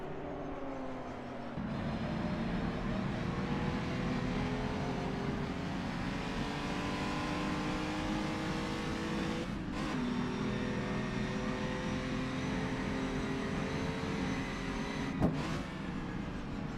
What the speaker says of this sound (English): it's kind of just watch the cars, enjoy the noise, enjoy the scenery